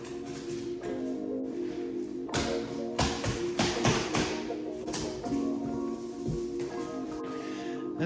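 Two new Lectric electric bikes are unboxed up close, giving irregular taps, thuds and rustling of cardboard and padding with no talk.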